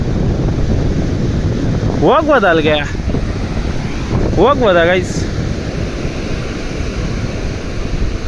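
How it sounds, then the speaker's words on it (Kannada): A cool wind blows steadily at Palolem Beach in Goa, a constant loud rush buffeting the microphone from start to end, with a person talking briefly over it twice. "ತಣ್ಣ ಗಾಳಿ ಬೀಸೈತೆ"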